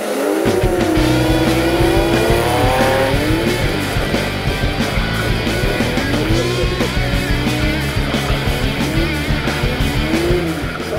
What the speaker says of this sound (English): We need rear wheel drive to go sideways with the drifting and the donuts and stuff, so hence we've switched to the BM.